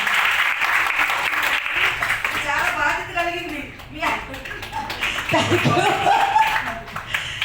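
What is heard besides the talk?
audience clapping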